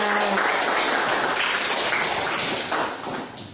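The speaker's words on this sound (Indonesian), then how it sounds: "Tepuk tangan" A class of students clapping together in a classroom, a dense, steady wash of hand claps at fairly close range that holds for several seconds before thinning slightly at the end.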